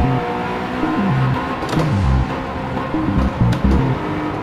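Race car engine in Gran Turismo 7, revving loud and close with rising and falling pitch as gears shift, steady throughout without voices.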